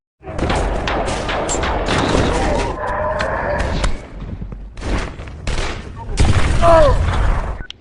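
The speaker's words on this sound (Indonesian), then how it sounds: "saat melakukan pengintaian keberadaan mereka diketahui oleh pihak musuh, sehingga terjadilah baku tembak" Gunfire in a film shootout scene during an enemy ambush, with dense bursts of shots and heavy booms, loud and chaotic, mixed with other scene sounds and voices.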